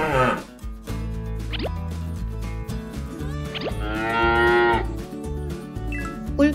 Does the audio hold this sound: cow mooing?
yes